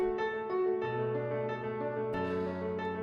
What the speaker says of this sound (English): when the computer plays it, it sounds like this